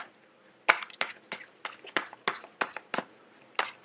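Tarot cards being shuffled by hand, about a dozen close, crisp snapping riffles and slaps in an uneven rhythm, with no talking.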